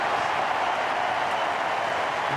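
A cricket crowd of about 35,000 at the Melbourne Cricket Ground applauds Mark Waugh's 150 in a one-day match, with dense, sustained clapping filling the stadium.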